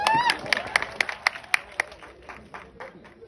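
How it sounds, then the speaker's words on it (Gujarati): Audience applause at an award show in Somnath, with sharp separate claps bursting at first and then thinning into scattered clapping over a low crowd murmur. "જોરદાર તાળી થઈ જાય."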